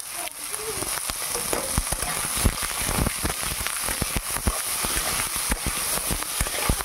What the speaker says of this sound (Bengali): ঝিঙে ভেজে তুলে রেখেছি